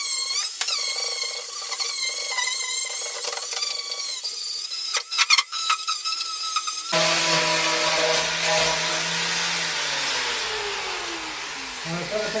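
Metal being ground with a power tool in a workshop, a loud continuous abrasive whine with falling pitch sweeps that begins partway through, preceded by tonal mechanical noise and clatter.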